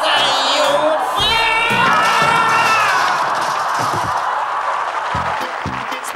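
A studio audience at a comedy sketch show cheers and whoops in loud, excited bursts with high shouts, then breaks into scattered clapping that fades toward the end.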